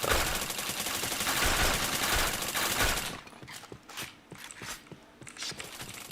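Gunfire from a shooting video game: a dense, loud stretch of rapid automatic fire for about three seconds, then quieter scattered single shots and light taps.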